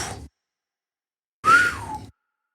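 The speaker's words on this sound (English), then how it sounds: "that was a terrible whistle" A single clumsy human whistle, starting high, wobbling and sliding downward before breaking off, heard close and alone after a brief breathy noise and a silence.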